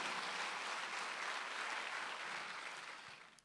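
Church congregation applauding during a Sunday worship sermon; a soft, even wash of many hands clapping together, fairly distant and quiet, fading at the end.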